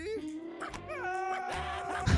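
Dog whimpering and yipping in the video game Stick It to the Man, a series of rising and falling whines over a low game background, fairly close and moderately loud.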